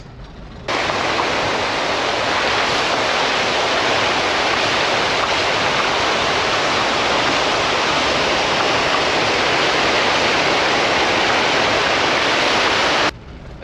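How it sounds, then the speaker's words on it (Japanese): Steady rain on a forest road beside a mountain stream, blended with rushing water into a loud, even hiss that runs unbroken from start to end after a brief quieter opening. "まだ雨も降り続いてるので"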